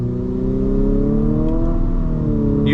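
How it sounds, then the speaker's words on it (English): A 2022 Infiniti QX55 luxury SUV accelerates under throttle, its engine drone rising steadily in pitch from inside the cabin, loud and continuous. "Let's go lock down some on throttle in our QX55."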